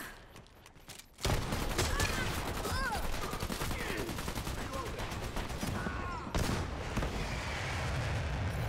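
Rapid gunfire and weapon bursts from the Dirty Bomb video game in a closed beta match, loud and near, running almost continuously after a quiet first second, with a brief dip around six seconds.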